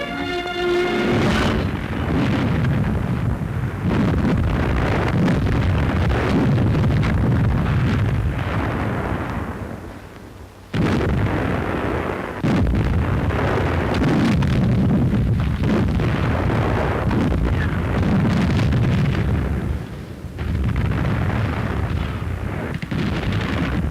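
WWII newsreel battle sound of artillery firing on enemy camouflaged tanks: loud, dense, repeated booms and blasts rolling into one another, with two brief lulls, close and overwhelming throughout.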